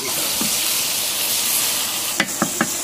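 Chili, onion and meat fry in a pan over a village cooking fire, giving a steady close sizzle throughout with a few sharp stirring scrapes near the end.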